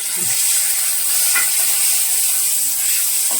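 A chopped onion and tomato filling for vada pav is sautéed in a pan, producing a loud, continuous hiss and sizzle up close with faint stirring clicks underneath.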